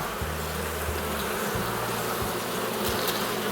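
A colony of black honeybees buzzes steadily while the hive is open for inspection, a close, continuous hum with low droning tones that shift and restart over the few seconds.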